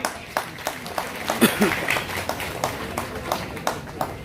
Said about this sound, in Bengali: একটু জোরে করতালি